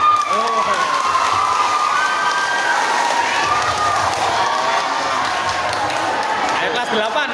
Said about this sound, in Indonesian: Woi, kasih tepuk tangan.